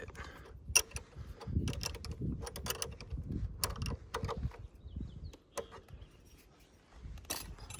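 Tools click and ratchet softly at close range as the brake pedal adjustment on a Yamaha Tenere 700 motorcycle is tightened, with irregular metallic ticks and light rattles over quiet outdoor background.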